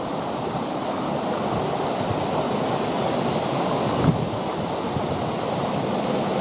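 Stream water flowing on a forest hiking trail near terraced rice fields, a loud, steady rushing wash that stays close and continuous, with one brief knock partway through and no voices.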